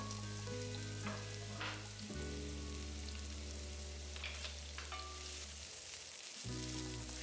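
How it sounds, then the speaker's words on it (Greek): Onion sautéing in hot oil in a pan, a steady close sizzle and crackle that runs throughout, with a few brief stirring scrapes and a short dip in the sizzle near the end. "Αφού ζεστάθηκε το λάδι μας, προσθέτουμε το κρεμμύδι και το τσιγαρίζουμε ή το σοτάρουμε"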